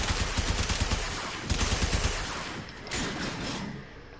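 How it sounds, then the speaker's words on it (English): Rapid machine gun fire in the Warframe video game on PS4, loud bursts of closely spaced shots rattling in quick rhythm, pausing briefly before another burst and a fading tail. "So again, like machine gun time."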